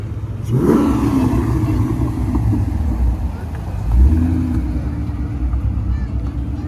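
A Corvette engine revs up sharply, then holds a steady roar before a second swell, loud and close amid crowd chatter and other car noise at a car meet.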